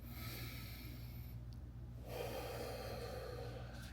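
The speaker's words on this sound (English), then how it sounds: "I'm going to just take a deep breath here" A deep breath taken close to the microphone, one long drawn inhale followed by a slower exhale over a steady low background hum, with no talking.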